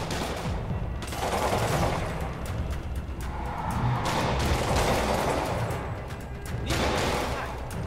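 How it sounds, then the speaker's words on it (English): Gunfire crackles through a street fight with police in Marvel's Spider-Man Remastered, a dense, continuous barrage of shots and impacts over a busy action mix. "Oh, shooting."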